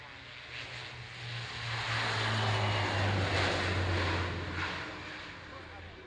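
A propeller aircraft rolls for takeoff at an air display, its engine drone swelling to a loud, sustained roar before easing slightly, steady and fairly close, with speech over it.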